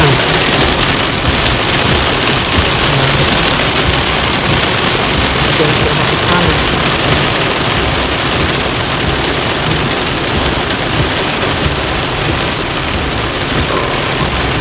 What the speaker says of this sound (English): It's storming now, isn't it?